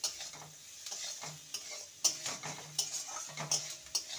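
Leftover rice with sugar added is stirred in a pan, producing quiet scraping and tapping strokes over a faint sizzle, soft and intermittent up close.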